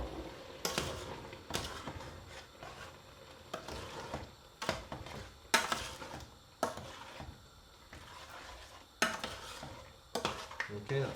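Sugar being stirred into pumpkin halwa in a saucepan, heard as a spoon scraping and knocking against the pan in irregular bursts, with a faint sizzle underneath and no talking.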